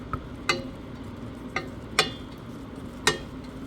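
Cooked quinoa being fluffed in a pot with a fork, giving a few sharp, separate scraping clicks spaced irregularly over a quiet background.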